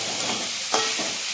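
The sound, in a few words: frying jackfruit with spices in oil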